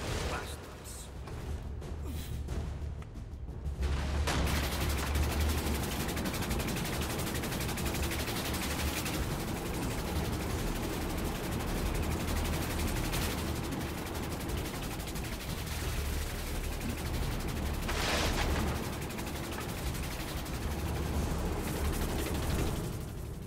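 Fast, continuous gunfire rattles in the video game Assassin's Creed Chronicles: Russia, a dense, sustained barrage filling the scene under a voice.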